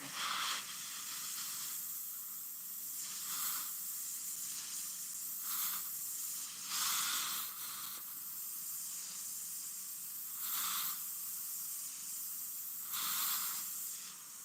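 An airbrush sprays paint in a steady, close hiss made of repeated short passes that swell and fade every second or so, with a soft continuous air hiss underneath and no talking.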